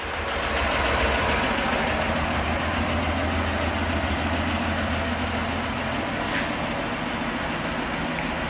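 A 1965 Ford cabover truck engine idles steadily, a continuous low rumble with a faint mechanical knock running evenly throughout, close and fairly loud with no voices.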